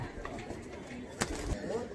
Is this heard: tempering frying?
no